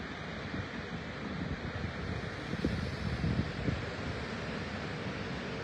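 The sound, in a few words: ocean waves at the shore near London Bridge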